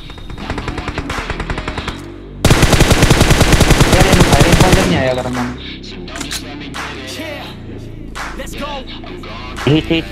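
Automatic gunfire in PUBG Mobile: an extended burst of steady rapid shots, then a louder, denser volley, followed by scattered single shots and game effects in the background.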